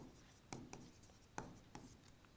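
Chalk or marker strokes on a classroom board during a lecture: a few sharp, separate taps and short scrapes, faint and fairly distant, with quiet pauses between them and no talking.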